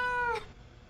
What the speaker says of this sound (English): We got us a kitty now.